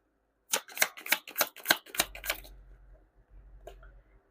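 A deck of tarot cards riffle-shuffled in quick, crisp bursts, about eight snappy flutters over two seconds, then a low hum and one faint tap.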